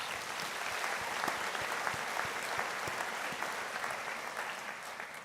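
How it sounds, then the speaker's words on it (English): A graduation ceremony audience breaks into a big round of applause, a dense, sustained clatter of many hands with a few sharper individual claps standing out, steady across the whole stretch. "Let's give all of us a big round of applause"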